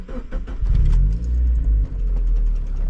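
A 1999 Mazda Miata engine cranks and catches, then settles into a loud, steady idle with low rumble close by, with a brief dip near the two-second mark.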